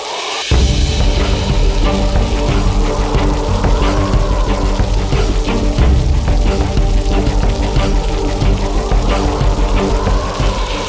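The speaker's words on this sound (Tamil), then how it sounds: "மழை கடுமையாக இருக்கிறதே, இப்பொழுதா இது வர வேண்டும்?" Heavy rain pours steadily as a loud, dense wash of noise, continuous for about eleven seconds after a brief quieter start, with music layered underneath.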